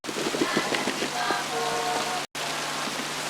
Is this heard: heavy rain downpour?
yes